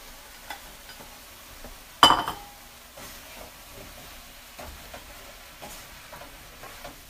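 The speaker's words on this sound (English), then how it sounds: "And now I'm going to put in the sweet potatoes." Sweet potatoes tipped into a pot of vegan black bean chili and stirred: one sharp clattering splash near the start, then soft, faint scraping and stirring in a quiet kitchen.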